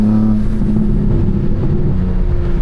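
A BMW M4 Competition with a loud exhaust and no mid-pipe drones deep and steady while driving, a close, continuous low rumble heard from inside the car with no talk.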